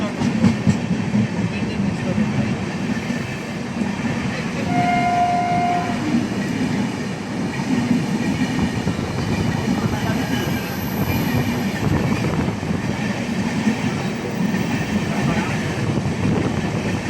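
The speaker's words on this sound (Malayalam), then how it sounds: "ജനശതാബ്ദിയാണ് പോയത്." A Jan Shatabdi express train rolls past close by, a loud, steady rumble of wheels and carriages with clattering track noise and a brief horn-like tone partway through, continuing for the full length.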